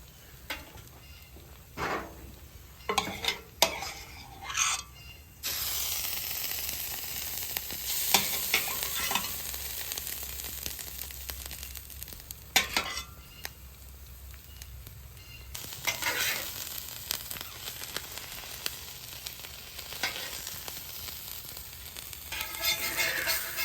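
Hot grease sizzles on a griddle as a pizza grilled cheese fries, with a steady close hiss broken by scraping and stirring clatters and occasional louder bursts, with no talking.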